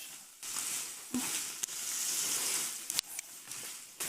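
Shrimp frying in butter in a pan, heard as a soft, continuous sizzling hiss close by, broken by a few sharp clicks and knocks of utensils.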